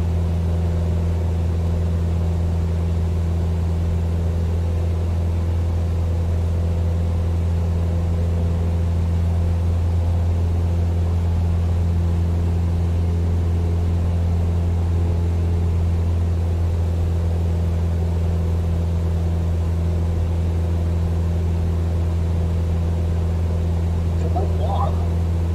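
A light aircraft engine drones steadily through a climb, a loud, constant low-pitched hum that holds unchanged throughout, with no talk over it.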